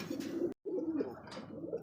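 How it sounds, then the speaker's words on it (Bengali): A male and female pair of pigeons coo close by in a steady, throaty burble, broken once by a brief pause before the soft cooing resumes. "ডানেরটা হচ্ছে মাদি কবুতর বামেরটা হচ্ছে নর আলহামদুলিল্লাহ খুবই ডাকাডাকি করতেছে"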